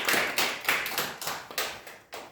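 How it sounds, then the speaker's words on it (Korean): Congregation applauding in thanks for a missionary during a Sunday worship service, a moderately loud burst of clapping with several surges and decays over a couple of seconds, no voices over it. "선교사 사역자는 수고해주신 선교사님께 감사의 박수"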